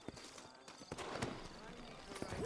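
Horse hooves clip-clopping in the video game Red Dead Redemption, a run of quiet, close hoof clops under soft ambience, with a brief horse whinny at the end.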